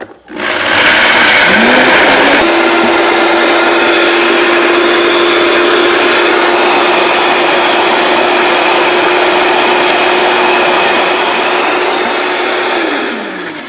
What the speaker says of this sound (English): turn your Vitamix on low.